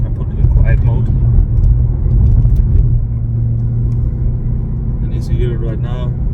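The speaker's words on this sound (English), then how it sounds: "as you hear it right now, it's pretty quiet, just like a regular every other car basically" A 2021 Ford Mustang GT idles with its exhaust in quiet mode, a low, steady rumble, quiet and even, with a person talking over it throughout.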